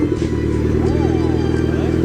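A Mitsubishi Evo X with a new dual exhaust and titanium test pipe idles with a steady low burble, moderately close, while people talk over it throughout.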